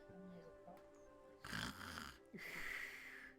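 A person snoring softly nearby, two slow breathy snores with a low rasp, with faint background hum and no talking.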